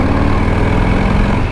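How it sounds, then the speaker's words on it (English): Air-cooled V-twin of a 2024 Harley-Davidson Low Rider S motorcycle idling with a steady, deep low burble, loud and close, alone without talk. "the burble of the V-twin, air-cooled V-twin"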